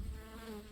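Bees and a wasp buzz close together at a hive in fall, giving a dense, steady drone with a wavering pitch in a single short moment.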